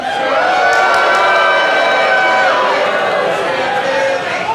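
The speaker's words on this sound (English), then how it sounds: "That's right, that's where you cheer, everyone" A wrestling crowd at a Pittsburgh show cheers steadily, a loud, sustained roar of voices with no pause.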